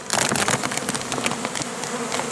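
Honeybees buzzing at a hive in a forest apiary during a spring inspection, a dense steady drone of many insects that stays close and even throughout, with no talk over it.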